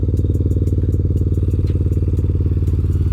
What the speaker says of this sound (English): Maybe I'll just flick on the choke there again to get it to idle nicely for us.